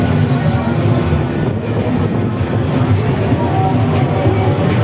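A toy train ride at a village fair in Salangpur rolls along steadily, a continuous low rumble and clatter of wheels heard up close with fairground noise around it.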